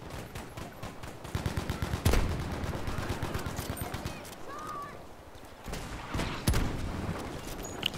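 Sustained gunfire in the video game Battlefield V, rapid automatic bursts with heavier booms layered in a dense, loud battle soundscape with no pause.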